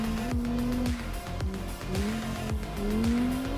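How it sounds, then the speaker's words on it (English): A race car engine roars and revs through repeated gear shifts, with a high-pitched tire squeal running beneath the loud, continuous drive. "One of the more powerful cars out on course today."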